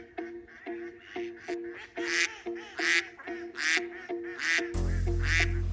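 A bird giving a rapid series of nasal, goose-like honks, about ten calls in a steady rhythm, close and clear with no talking, ending under a sudden loud burst of noise.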